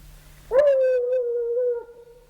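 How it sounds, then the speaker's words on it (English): Treeing walker coonhound baying on a coon track: a single long, drawn-out howl that rises sharply and holds steady for over a second, clear and fairly close, with no one talking. "He's pretty good about getting his mouth open as soon as he smells a coon."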